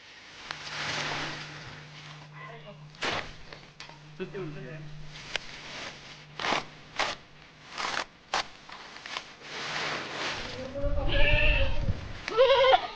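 Goats on an agricultural school's farm in Devapur, Maharashtra, bleat several times in short wavering calls, mixed with people talking and a steady low hum, growing busier and louder toward the end.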